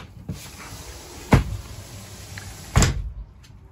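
Two cabin doors on a 2018 custom Quicksilver 855 Weekend boat bang shut in turn, each a sharp, close thud separated by about a second and a half, with a faint rattle in between.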